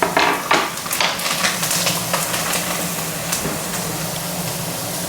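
Green chili fries in very hot oil tempered with black cumin, a loud crackling sizzle with stirring clatter up front, settling into a steady spitting hiss.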